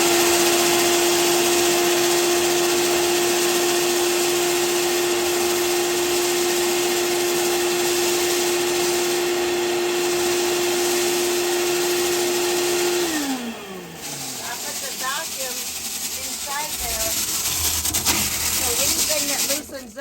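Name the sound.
vacuum cleaner sucking up dust and lint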